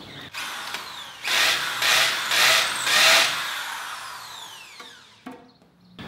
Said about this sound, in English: This is a hammer drill, and you need this back and forth hammering action to get through concrete.